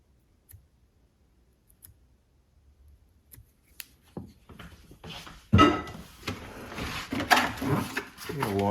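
A blade scores a cut into risen sourdough bread dough. There are a few soft clicks at first, then closer crinkling and scraping handling sounds, with a person speaking alongside.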